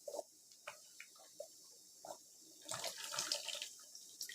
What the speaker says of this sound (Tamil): இனி இதில் கொஞ்சம் புளி ஊற்றிக்கலாம்.